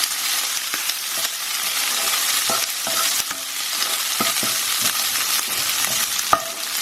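Prawns and garlic stir-fry in a hot pan, a steady loud sizzle broken by scraping and tossing clicks from the utensil, with no talking.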